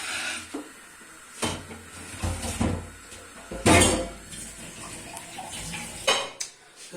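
Pots and a pressure cooker clatter and clank while being washed in a rural village kitchen, a series of close metallic knocks and scrapes with running water, some louder bangs near the middle.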